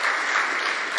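A short burst of audience applause for the deck team at a university open day and job fair opening ceremony, dense and close, with no voices over it.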